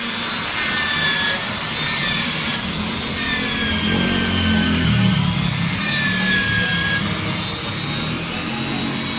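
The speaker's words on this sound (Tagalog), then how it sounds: "Na-apply ng rubbing compound tapos binabapping na." A continuous whirring drone of a power buffer polishing a Kawasaki Z650 motorcycle after rubbing compound, steady and fairly loud throughout with faint shifting whines layered above.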